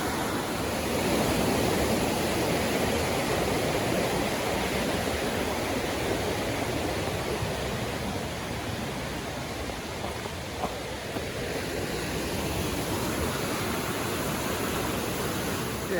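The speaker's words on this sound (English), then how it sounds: "this is again Noland Creek" Noland Creek, a mountain stream, rushes steadily for the whole stretch as a dense, even roar of flowing water with no voices over it.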